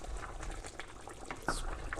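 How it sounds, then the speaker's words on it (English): Cajun chicken sauce picante bubbling in a pot, a soft, continuous burble of popping bubbles with a few sharper pops, faint and close. "Be careful stirring it. It's going to bubble for a while."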